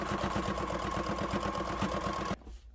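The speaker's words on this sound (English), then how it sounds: "And when I sew this, I have to turn it." Sewing machine stitching fleece fabric for a bumblebee toy, a steady rapid chatter of needle strokes running loud and close, then stopping abruptly near the end.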